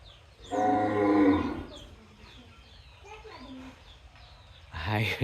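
A Gir cow gives one deep, drawn-out moo close by, followed by quieter rustles and voices from the farm before a second short call.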